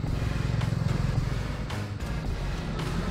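A 2018 Hyundai Accent with a 1.4 automatic engine idles quietly with the air conditioning running, giving a low, smooth, steady hum heard close by with no voices.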